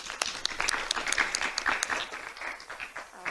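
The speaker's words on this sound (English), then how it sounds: "Let's give her a round of applause" Audience applause for the scholarship competition alternate, a dense, steady burst of many hands clapping that runs the whole time and tapers slightly toward the end.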